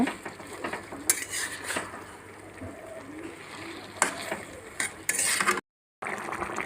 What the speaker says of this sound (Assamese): আগকেইটা বহাই দি এনেকৈ কমপ্লিট লাৰি থাকিব